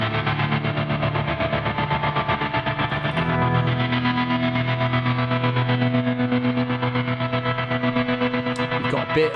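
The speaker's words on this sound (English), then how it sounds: "that's what's getting that sort of distorted, chewy delay, trem delay that comes out after" A Meris LVX delay pedal with preamp drive in the feedback loop produces distorted, chewy tremolo delay: a thick, continuous, fuzzy wash of repeating guitar tone with slight pulsing, sustained and close for the whole stretch.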